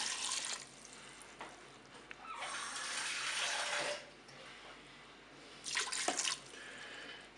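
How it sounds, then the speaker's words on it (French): Water pours over spaghetti inside a Cookeo multicooker, a steady rushing splash with two louder surges, close and alone with no talking. "Je vais verser de l'eau pour recouvrir mes spaghettis."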